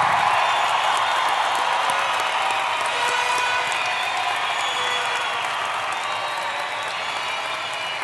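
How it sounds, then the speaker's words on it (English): Applause from a large crowd at a spring university commencement ceremony after undergraduate degrees are conferred, a dense, loud, sustained wash of clapping filling a big hall, with faint whoops and slowly tapering intensity. "How about a round of applause?"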